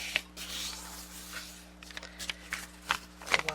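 Paper booklet pages being folded by hand for a garden notes booklet, soft close rubbing and crisp creasing scrapes in scattered bursts over a faint steady hum.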